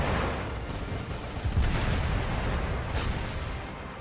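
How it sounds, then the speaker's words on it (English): Torpedo strikes in the naval game Azur Lane land as a dense run of booming blasts and rumbling gunfire, loud and close with overlapping impacts and a sharp crack near the end. "Did that torpedo really do 1900?"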